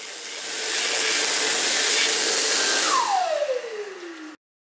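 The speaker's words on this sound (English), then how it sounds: "my favourite hand dryer is the original Dyson Airblade." An original Dyson Airblade hand dryer blasts a loud, steady rushing hiss of air that builds up, then winds down with a falling whine before cutting off abruptly.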